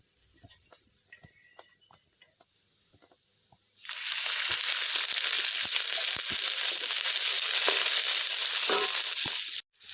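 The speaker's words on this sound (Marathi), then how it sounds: "कांदो माझा आता जरा लाल झालो मी आता ह्याच्यात तेल टाकते" Oil poured over reddened onions in a hot pan sets off a sudden loud, steady hiss of frying that holds for about six seconds after some quiet handling noises, with no talking.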